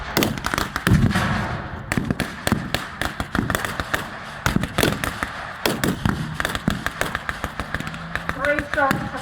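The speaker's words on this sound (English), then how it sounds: "Three shots from the 25-pounder and a large German force has been wiped out." A WW2 battle re-enactment with a 25-pounder field gun firing among a dense run of loud blank shots and booms, heavy and close, with voices talking over the gunfire.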